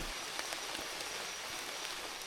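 Steady rain falls outdoors, a soft continuous hiss with scattered drop patter, fairly faint and even throughout with no voices.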